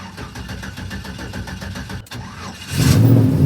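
A big block 460 Ford Bronco engine cranks with a rapid, rhythmic starter whir, then catches and roars to life loudly near the end.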